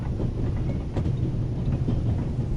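A train running on rails in the game The Raven, a low, steady rumble with faint clacking, continuous and close, no voices.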